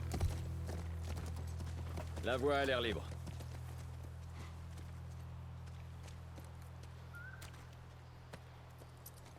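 Horse hooves clip-clop in The Last of Us near a ranch, a soft walking rhythm under a brief spoken line and quiet game ambience.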